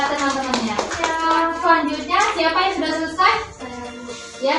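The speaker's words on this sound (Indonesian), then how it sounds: "tepuk tangan buat teman-temannya" Schoolchildren applaud their classmates in a classroom, a busy patter of hand claps mixed with children's chattering voices and talk throughout.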